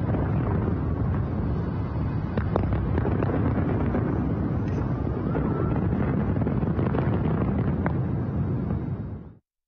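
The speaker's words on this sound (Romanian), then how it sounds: "hai să vedem și un foc de artificii reușit în New York" Fourth of July fireworks in New York, a dense continuous barrage of booms and crackles heard at a distance through heavy wind on the microphone, ending abruptly.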